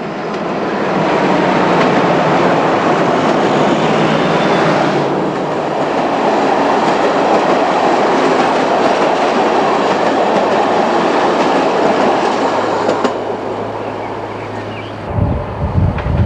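A train rolls past on railway tracks at the Rákosrendező station yard, a loud, sustained roar with steady wheel clatter that fills most of the stretch and then fades as it moves away, with no voices.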